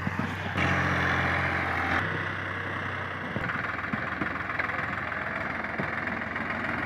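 A tractor drives out of a field after wheat sowing. Its engine holds a steady, loud, close drone with a low throb, shifting in tone partway through as it works, with no talk.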